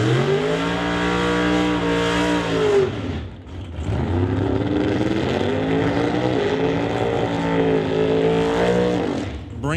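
Drag race cars, an Artex Racing Chevy Camaro and an Evans Excavated Chevy Nova, idle and rev loudly up close while staging, with rising and falling engine pitch and a brief dip before the roar resumes.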